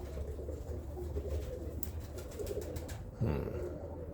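Birmingham Roller pigeons cooing in a loft, soft low repeated coos close by, with a brief louder flutter or shuffle near the end, no talking.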